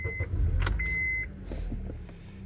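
A 2012 Honda Accord with a 2.4L engine and a cylinder misfire is started up: a brief electronic chime and a starter whir give way to a low, steady engine rumble close by.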